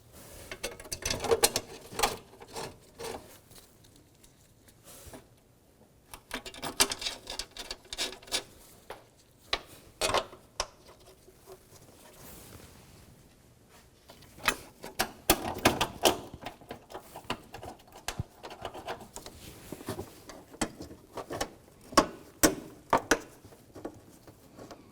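A ratchet clicks in quick, uneven bursts while battery tray bolts are tightened on a 1999-2006 Chevrolet Silverado 1500, close and fairly quiet, with short pauses between runs of rapid clicking.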